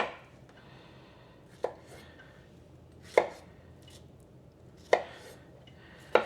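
A knife chops tomatoes on a cutting board in a home kitchen, giving four sharp, separate thunks spaced about a second and a half apart over faint room noise, close and with no talking.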